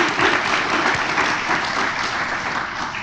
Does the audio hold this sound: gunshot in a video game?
no